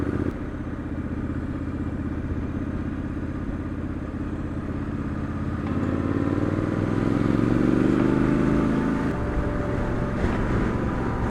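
A 2019 Triumph Scrambler 1200 XE on an open road, its engine droning steadily throughout with wind rush, the tone swelling and rising in pitch midway as the bike accelerates before settling again; no talking.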